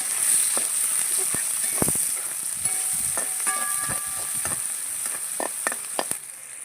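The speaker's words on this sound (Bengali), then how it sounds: "তিনটে পেঁয়াজ কুচিয়ে নিয়েছি দিয়ে দিচ্ছি পেঁয়াজটা একটু লাল করে ভেজে নেবো" Chopped onions, three of them, fry in a pan with whole garam masala, a steady broadband sizzle running throughout with scattered utensil clicks and a few brief tonal clinks over it.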